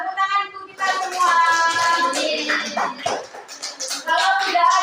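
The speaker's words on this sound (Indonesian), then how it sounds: "Tepuk tangan untuk kita semua." A group of children in a classroom claps together in a sustained burst of applause, mixed with excited voices and cheering.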